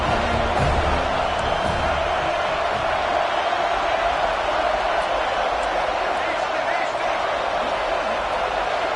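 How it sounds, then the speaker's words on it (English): At a football stadium, the home crowd rises into a continuous, dense roar during a third-down defensive stand. The wall of cheering noise stays loud and steady throughout with no clear breaks. "This crowd rising up, sensing that its defense needs some help."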